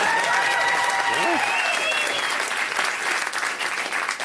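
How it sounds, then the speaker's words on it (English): Studio audience applauding, a dense sustained burst of clapping with voices talking over it near the start, fading slightly toward the end. "I don't think you should have clapped."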